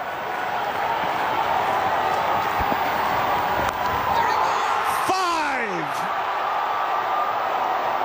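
A cricket crowd at Kingsmead is on its feet, a dense, steady roar of cheering that fills the whole stretch, joined by a few sharp whistles and a sliding electronic whoosh near the middle.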